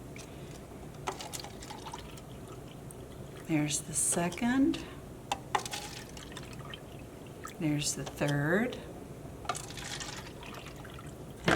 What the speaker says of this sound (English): first thing we're going to do is fill 4 glasses with warm water